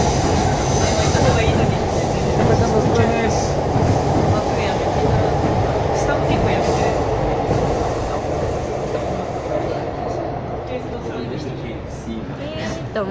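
A train rumbles loudly past a café set in a former railway station in Tokyo, Japan, a steady, close roar with rattling wheels and faint squeals that slowly eases toward the end.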